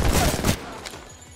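A Hemlok rifle in a video game fires on full auto in a loud, rapid burst of about half a second, followed by a fading rattle and echo with no voices.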